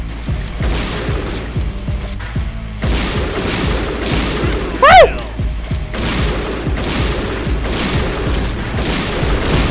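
Rapid rifle fire from the Point Blank online shooter, with quick repeated shots and reload clicks in a steady rhythm and a brief louder burst midway. The sound is close and dense throughout, with game sound effects layered over it.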